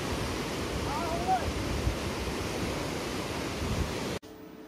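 A rain-swollen river rushes past after a day of heavy rain, a broad, steady roar of water with wind buffeting the microphone, and a brief faint whistle-like sound partway through before it cuts off abruptly.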